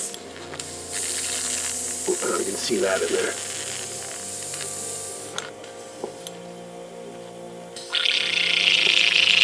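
An airbrush is back-flushed to clear paint from its chamber, giving a continuous hissing, bubbling spray that swells louder near the end. Someone speaks briefly over it.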